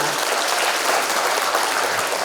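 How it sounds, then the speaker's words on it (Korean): Audience applause at a book launch event, a dense, continuous burst of many hands clapping at once, fairly loud and close, with faint crowd murmur beneath. "다시 한번 큰 응원의 박수 부탁드리겠습니다"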